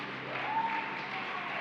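Steady applause from a church congregation, a continuous wash of clapping at moderate level with no voices over it.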